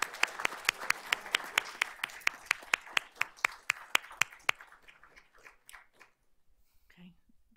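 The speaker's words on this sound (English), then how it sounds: "So let's give Cody a round of applause." A small audience at a board of trustees meeting claps in a brisk, steady rhythm of distinct hand claps, then thins out and fades to a few scattered claps and quiet murmuring.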